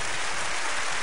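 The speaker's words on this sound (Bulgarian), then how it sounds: "Аплодисменти за For You!" A TV studio audience breaks into steady, dense applause, a loud continuous wash of clapping with no voices over it.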